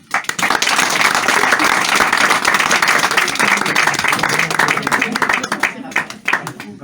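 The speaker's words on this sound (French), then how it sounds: "Quand vous allez applaudir bien fort" Loud, sustained applause from a theatre audience at a hypnosis show, dense clapping that fills the whole stretch and thins out slightly toward the end, with some voices mixed in.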